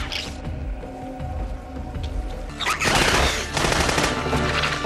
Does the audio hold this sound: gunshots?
yes